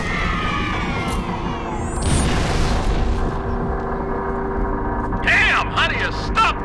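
Artillery fire-mission explosions rumble in Halo: Reach, with heavy booming blasts and debris washing over a constant battle din, while voices talk near the end.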